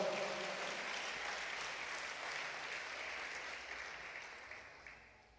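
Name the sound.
church congregation applauding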